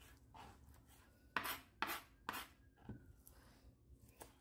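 A knife cuts through cilantro on a board while preparing red snapper stew, a quiet series of close, uneven chopping and scraping strokes with no talk.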